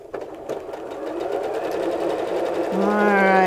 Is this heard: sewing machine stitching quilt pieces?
yes